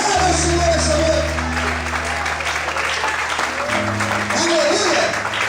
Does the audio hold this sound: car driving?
no